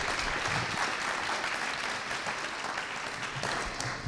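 An audience at an evening conference applauds, a dense, steady wash of clapping that holds evenly for several seconds at moderate distance, with no clear voices over it.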